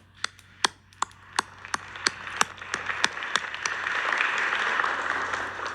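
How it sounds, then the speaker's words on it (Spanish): Applause at a morning presidential press conference: a few scattered, separate claps ring out first, then thicken into a continuous, fairly faint round of clapping from the room. "Un aplauso."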